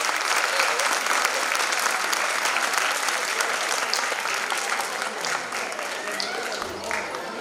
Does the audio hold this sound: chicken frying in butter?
no